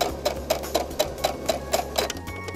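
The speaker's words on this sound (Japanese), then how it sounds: "では表からステッチを真ん中に入れていきます" Sewing machine stitching gauze fabric down the center of a handmade mask, a quick even mechanical chatter of needle strokes about four per second, close and steady.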